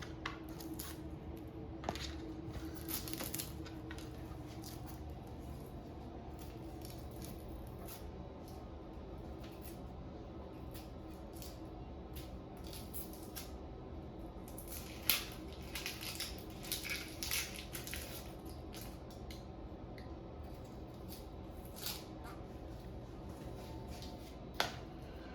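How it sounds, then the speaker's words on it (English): Onion being peeled by hand in a kitchen, faint crackly rustles and papery tearing of the dry skin in scattered bursts over a low room hum, with a few sharper snaps. "next I'm going to peel the onion"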